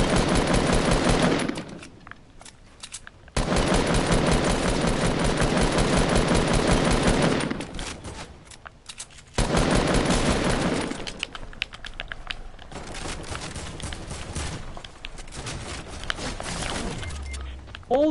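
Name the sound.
machine gun fire in Fortnite video game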